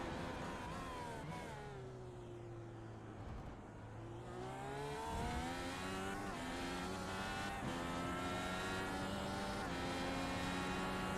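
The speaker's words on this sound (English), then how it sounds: "Just soak up some of that beautiful Dallara IR18 noise." A Dallara IR18 IndyCar races at Sebring in the iRacing game, its high-pitched engine whine climbing and falling through gear changes as several cars scream past at steady loudness.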